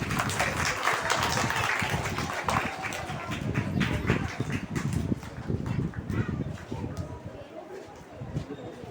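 A school audience claps to welcome a local MLA at an inauguration, giving continuous scattered applause that fades slightly toward the end, with voices audible underneath.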